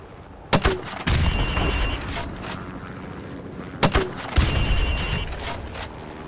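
Grenade launcher rounds fired in Call of Duty 4 Remastered: two sharp launch thumps followed by loud booming impacts, each with a rumbling tail, over game ambience.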